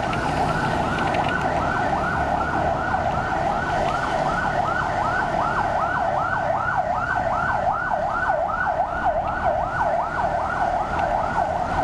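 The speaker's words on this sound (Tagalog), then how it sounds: "Ay, ambulansya." An ambulance siren on Araneta Avenue in the Philippines wails continuously in a fast rising-and-falling pattern, steady in loudness over a constant traffic-like background rumble.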